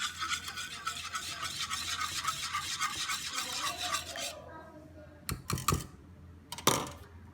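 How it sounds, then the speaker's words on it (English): A spoon scrapes and stirs food in a pan for about four seconds, a soft close scratchy texture, followed by a few brief clatters of utensils against cookware and quiet kitchen background. "Mix it up."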